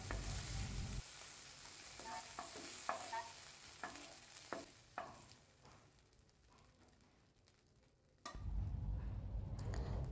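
Okra frying in a pan hisses loudly at first, then quiets as it is lifted out with several scraping and clinking spoon strokes, before a steady sizzle returns near the end.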